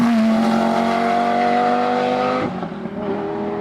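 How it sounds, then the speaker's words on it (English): Lamborghini Gallardo engine with an aftermarket exhaust holds a loud, steady high-revving drone, then drops sharply in pitch and volume as the revs fall off near the end. "It's got that signature Lamborghini sound"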